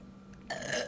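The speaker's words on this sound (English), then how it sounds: "Just have a burp out fast." A person lets out a short, loud burp during a burping contest, starting abruptly after a moment of quiet and trailing off within half a second.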